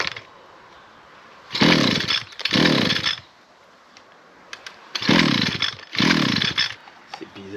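A 2013 Echo SRM-350ES brush cutter engine roars up in two pairs of loud, harsh revving bursts, dropping back between them to a rough, sputtering idle that sounds uneven.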